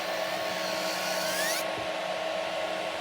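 Cheap electric nail drill buffing gel polish off nails, a steady high whine that runs continuously and drops in pitch partway through, with no talking.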